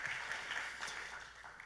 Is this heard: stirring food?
no